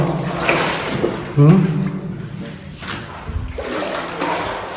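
Splashing and sloshing of people wading through water inside Pinagrealan Cave in Norzagaray, Bulacan, with irregular watery swishes close by and voices speaking over them.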